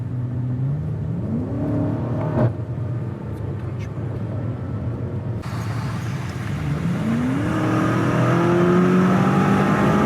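BMW M5 engine revving in sport mode, rising in pitch through two strong sweeps with a steady loud drone underneath, close and dominant throughout.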